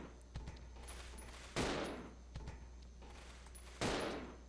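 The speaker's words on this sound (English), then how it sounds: "I'm just gonna shoot this thing." Video game gunfire, two pairs of sharp shots, each a soft pop followed by a louder burst with a short decaying tail, fairly quiet and repeating about two seconds apart.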